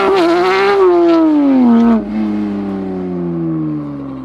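A crashed Porsche GT3 accelerates hard from a standing start, its engine screaming loud and close, pitch dropping through a gear change, then droning on at high revs.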